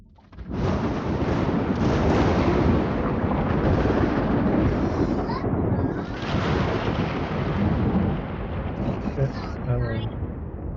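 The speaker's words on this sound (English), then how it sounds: "It's coming down at a heavy angle, and the thunder that follows the lightning is loud." Loud, roaring rush of heavy rain and gusting wind buffeting the microphone, continuous and close, with deep rumbling swells beneath.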